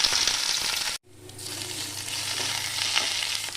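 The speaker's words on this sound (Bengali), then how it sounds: "এরপর আমি পেঁয়াজগুলো দিয়ে দিচ্ছি।" Onions hitting hot oil with chopped garlic already in the pan: a loud close sizzle that cuts out for a moment, then returns and builds into a steady frying hiss with occasional pops.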